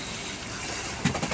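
Strong wind and rushing water at a waterfall, a steady broadband roar filling the clip with a brief louder gust or splash near the end.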